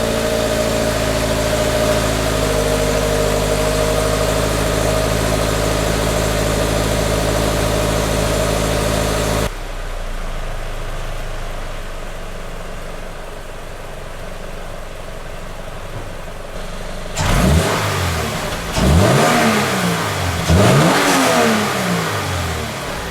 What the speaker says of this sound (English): let's first hear what the stock exhaust sounds like. Startup, idle, and then revs.